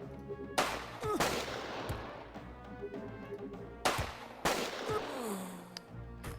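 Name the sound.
gunfire in video game Jagged Alliance 2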